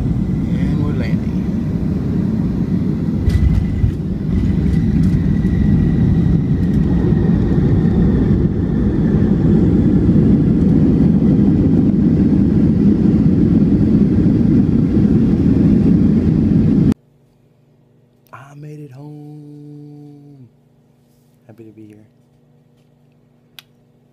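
Loud, steady broadband roar of an airliner landing in Seattle, sustained for most of the clip before cutting abruptly to near-silence with a person speaking.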